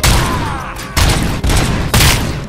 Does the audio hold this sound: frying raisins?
no